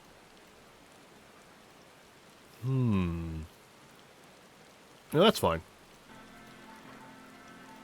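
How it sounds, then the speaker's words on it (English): Steady rain patters throughout, a soft even hiss of in-game ambient sound, while a person speaks briefly twice over it. "the rain sound is still going though"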